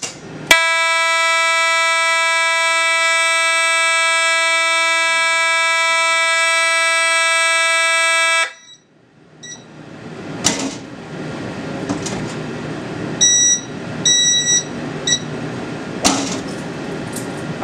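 An outdoor warning siren sounds a loud, steady chord-like tone during a system test, holding unbroken for about eight seconds before cutting off, leaving a distant outdoor ambience with a few short horn-like bursts.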